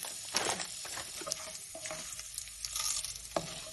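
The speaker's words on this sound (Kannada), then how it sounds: "ಸೊ ಅದಾದಮೇಲೆ ನಾನು ಉದ್ದಿನಬೇಳೆ ಹಾಕ್ಕೊತಾ ಇದ್ದೀನಿ ಒಗ್ಗರಣೆಗೆ." Urad dal frying in oil for a tempering, a soft continuous crackling sizzle with light stirring and occasional sharper pops, close but fairly quiet.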